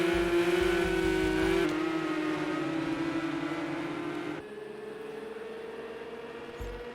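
Racing cars in an Xbox esports racing game brake into a corner, the engine tone falling steadily as they slow and a second engine joining before fading. Loud and close, with no talk over it.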